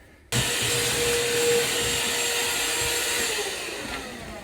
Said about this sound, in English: This rechargeable vacuum cleaner has been a game changer in terms of keeping the boat clean